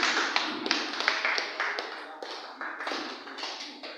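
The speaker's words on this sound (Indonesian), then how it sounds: "kita tepuk tangan bersama-sama untuk Pak Kaseran" A small group claps at the opening ceremony of a table tennis tournament in an indoor sports hall, with irregular, moderately close claps that stay fairly quiet and short.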